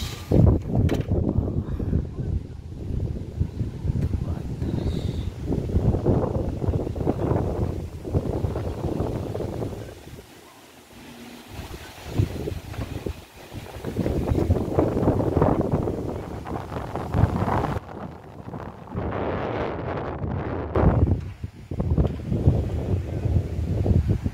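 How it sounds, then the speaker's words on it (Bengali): Strong wind gusts roar during a heavy rainstorm beside a flooded pond, a loud, continuous buffeting rush that swells and eases, with a brief lull midway before surging again. "এই জানালা খোলার কোনো উপায় নেই, এত বাতাস।"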